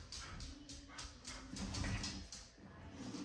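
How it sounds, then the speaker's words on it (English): A dog barks and yelps repeatedly in the background, somewhat distant, with faint clatter and sliding noises nearer by. "You can hear my dog in the background going nuts."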